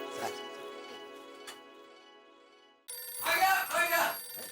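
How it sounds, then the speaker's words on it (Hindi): A telephone rings with a steady electronic tone, then a voice speaks briefly over it. "मैं अय्यर को एक बार फिर से फोन कर लेती हूँ"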